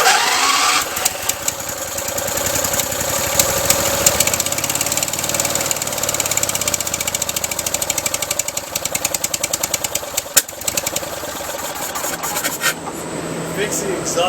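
A stock Yamaha motorcycle fitted with a 670cc V-twin engine, with a small exhaust leak, is kicked over and runs with a loud, rough, rapid knocking and popping that grows steadier near the microphone while people talk over it.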